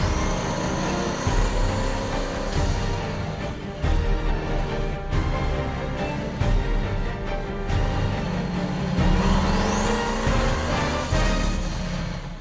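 A Hennessey Venom GT sports car roars under hard acceleration, loud and close, with repeated rising surges and brief gaps between gear pulls.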